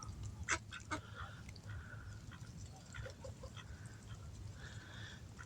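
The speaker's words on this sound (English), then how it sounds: "That duck right there, the white one there" A white duck quacks at a distance among farm birds outdoors, a few scattered short calls standing faintly over a steady low background murmur.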